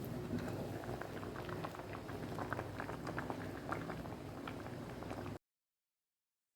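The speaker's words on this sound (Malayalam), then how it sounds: "പത്ത് മിനിറ്റ് കഴിഞ്ഞ് തുറന്ന് നോക്കുമ്പോൾ നന്നായി തിളച്ച് വന്നിട്ടുണ്ട്" A pot of raw banana (kaya) curry bubbles away at a full boil, a dense close patter of popping bubbles lasting about five seconds before cutting to silence, with no talk.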